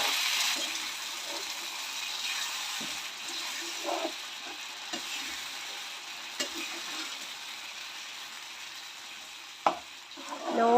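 A ripe banana curry with water and salt is stirred in a pan, a soft low bubbling with faint scraping strokes and a couple of spoon taps, quiet and close with no talk.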